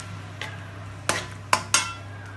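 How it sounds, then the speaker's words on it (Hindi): A spoon stirs green chili and garlic-ginger paste in a cooking pot, giving four sharp metallic clinks against the pot over a faint steady hum. "अपनी कुटी हुई हरी मिर्च और लहसुन अदरक का पेस्ट 1 चाय का चम्मच शामिल कर रही हूँ और इसको अच्छी तरह हिला लेना"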